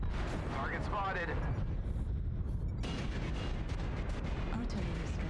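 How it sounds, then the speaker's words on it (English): An artillery strike in the mech combat game Mechwarrior Online, heard as a burst of deep booming impacts and rumble, with a synthetic warning voice and a gap before the blasts resume in a dense, rolling barrage. "Artillery strike activated."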